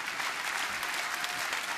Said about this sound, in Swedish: Det är värt en applåd.